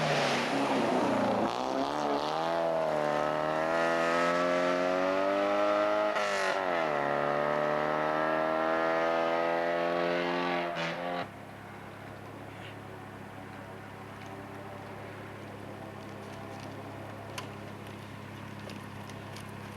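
Rally car number 26 at the 1989 Rally of the Tall Pines roars past up close, its loud engine rising and falling through several gear changes, then cutting off sharply, leaving faint distant engine drone and ambient noise.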